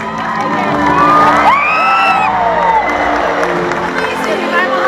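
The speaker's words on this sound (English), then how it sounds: "let's give her a great big cheer" Audience at a SeaWorld orca show cheering loudly, with shrill whoops and children shouting over a sustained crowd roar.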